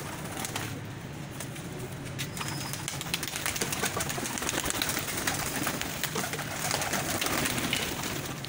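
Pigeons kept for flying on a rooftop loft in Sialkot, Pakistan, coo in low repeated calls, with occasional wing flaps, over a steady hiss of outdoor background noise.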